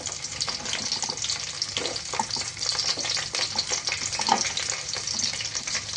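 Garlic pieces, cut coarse rather than minced, fry in hot oil in a home kitchen, giving a steady broadband sizzle with irregular crackles and stirring scrapes, close and fairly loud with no talking.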